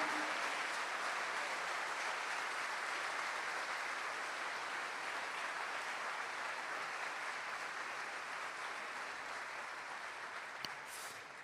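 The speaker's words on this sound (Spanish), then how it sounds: "dale un fuerte aplauso al Señor en esta hora" Church congregation clapping at length during a sermon, a long, even roar of many hands heard from a distance, fading slightly near the end before a brief sharp knock.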